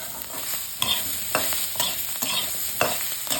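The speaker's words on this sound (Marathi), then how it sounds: "गॅस बंद केला आपण अर्धा मिनिट याच्यातच परतूया." Ingredients are stirred and tossed in an oil-coated kadhai on the residual heat after the gas is switched off. A soft sizzle runs throughout, and a spatula scrapes rhythmically about every half second, close up with no voices.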